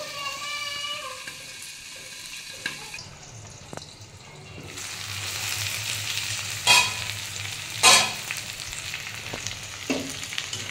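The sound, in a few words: potatoes, onion and tomato frying covered in a pan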